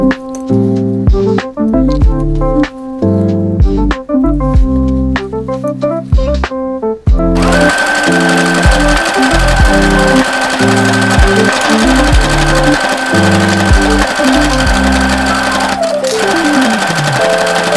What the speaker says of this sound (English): I'm going to serge them onto the sleeves.